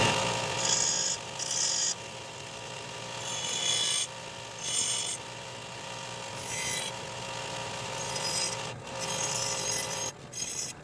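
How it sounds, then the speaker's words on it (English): A metal file rasps back and forth along the inner edges of a rusty vehicle body mount, making a series of harsh, gritty strokes close up with short pauses between them and no talking. "We'll clean the inner edges up a little bit with a file"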